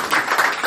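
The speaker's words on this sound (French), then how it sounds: "Mavera, applaudissons pour elle alors" Brief burst of audience applause during a church teaching session, a crowd clapping together fairly loudly in an even wash of claps, with no talking over it.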